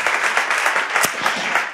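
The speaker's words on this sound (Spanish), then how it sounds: "tu aplauso, por supuesto" A television studio audience applauds an arriving guest on a Spanish talk show about cinema, a dense, steady burst of many hands clapping together throughout.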